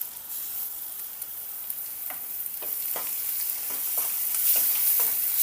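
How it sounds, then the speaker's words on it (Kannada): Coarse green chili paste frying in a tempering for radish buttermilk sambar makes a loud, close crackling sizzle broken by repeated stirring scrapes, growing slightly louder over time with no voices. "ಹಸಿ ಖಾರನ ಒಗ್ಗರಣೆ ಒಳಗೆ ಈ ರೀತಿ ಫ್ರೈ ಮಾಡ್ಕೋಬೇಕು"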